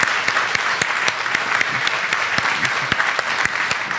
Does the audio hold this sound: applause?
yes